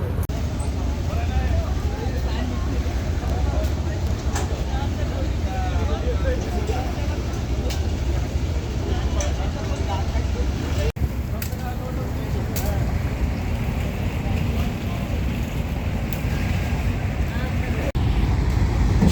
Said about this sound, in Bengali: সকাল হতেই দেখি দলে দলে ট্রলার ছুটে চলছে দুবদাচরের দিকে